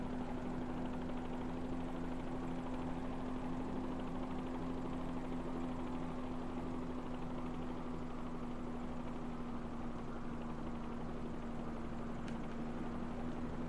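Bell 47G helicopter in Microsoft Flight Simulator over New York, a steady droning rotor and engine hum holding an even pitch throughout, moderately loud and alone with no talk.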